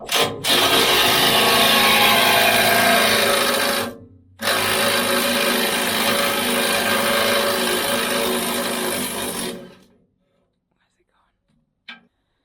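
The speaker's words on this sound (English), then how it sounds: "Adjusting the blades in the Shelbourne Reynolds" Machinery working on blade adjustment of a Shelbourne Reynolds tub feeder on a farm, a loud steady mechanical whir for about four seconds, a brief pause, then another long run before stopping, with a faint click near the end.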